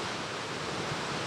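Hällingsåfallet waterfall in Sweden roars as a steady, dense wash of broadband rushing water, constant and fairly loud throughout with no voices.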